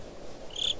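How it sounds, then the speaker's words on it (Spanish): Crickets chirp faintly in a forest in a Minecraft horror map, with a brief high trill rising near the end over a quiet background hiss. "¡Grillos! ¡Hay grillos!"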